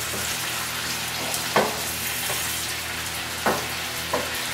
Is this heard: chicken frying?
yes